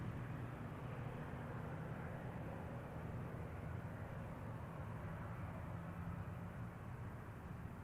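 An airliner arrives at Seattle's airport, a distant, continuous low jet roar with broadband rumble holding steady throughout, fairly faint and with no talk.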